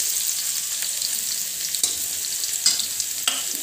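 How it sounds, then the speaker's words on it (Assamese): Bitter rattan cane shoots fry and get stirred in a pan, a steady hiss punctuated by a few sharp scraping strokes of the spatula. "অকণমান ভাজি মই বেতখন ভাজি দিম"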